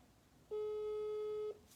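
A single steady ringback tone sounds on an outgoing phone call, lasting about one second, loud and alone against a faint hiss.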